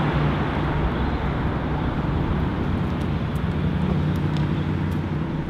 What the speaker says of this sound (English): we're just pulling into the petrol station